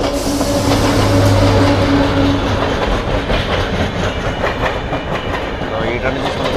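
East Coast Express passing close by at Rajahmundry, a loud continuous rumble with rhythmic wheel clatter and a brief tonal horn early on.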